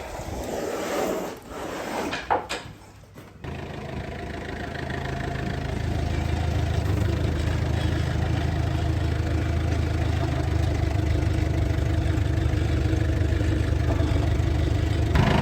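A deep engine rumble builds over several seconds as a heavy delivery truck carrying oak draws closer, then holds as a steady low drone.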